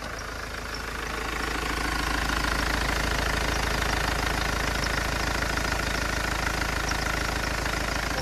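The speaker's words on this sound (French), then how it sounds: "Le véhicule a l'air de bien tourner en tout cas." A Nissan Kubistar 1.5 dCi K9K diesel idles after a repair with a steady, close, even clatter and knock, rising slightly in the first second and then holding constant, with no talking.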